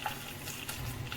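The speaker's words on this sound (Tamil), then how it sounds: "1 கிளாஸ் ரவைக்கு 3 கிளாஸ் தண்ணி ஊற்றிக்கலாம்" Water pours steadily into a pan for making wheat rava upma, a continuous gushing splash with no talking.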